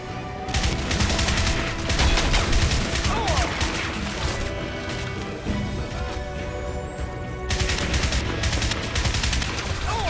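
Gunfire in Crysis on PS3, with loud, rapid bursts of automatic weapon fire repeating close by, pausing briefly between volleys.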